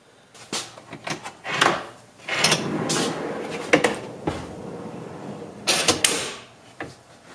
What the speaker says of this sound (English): they are full extension drawer slides, so it makes the most of the space